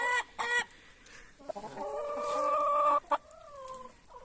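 Grizzly Sandry hens and a rooster, a meat-and-egg cross breed, clucking close by, with a couple of sharp bursts at the start and a long, drawn-out rooster call in the middle, then softer clucks.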